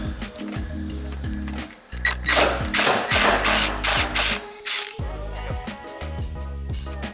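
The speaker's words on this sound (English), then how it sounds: "still need to unbolt the little seatbelt bolt. This one is super rusted out." A rusted seatbelt bolt is worked loose inside a BMW E30 with a power tool, heard as repeated close bursts of whirring ratchet noise broken by short pauses.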